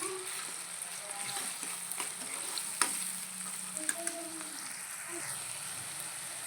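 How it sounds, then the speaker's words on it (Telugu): Onions sizzling in a pan with turmeric and salt, a steady close frying hiss broken by occasional scrapes and stirring clinks, and no talking. "ఉల్లిపాయలు అయితే వేగిపోయినాయండి"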